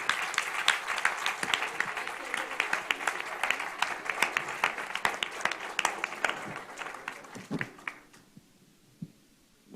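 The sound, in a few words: applause for the project staff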